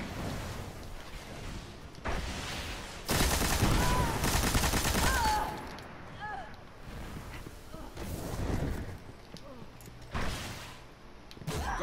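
Rapid bursts of machine gun fire in a chaotic multiplayer skirmish video game, loud broadband volleys recurring in several clusters with brief gaps between them, mixed with other battle noise.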